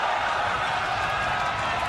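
A boxing arena crowd in Macau roars in a steady, broad wash of cheering and noise, sustained and even throughout the short stretch.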